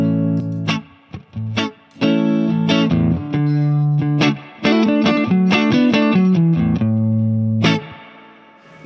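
Electric guitar played through an octave-up fuzz pedal with reverb gives loud, thick, distorted chords and riffs in short bursts with brief gaps, and the notes ring out with reverb tails.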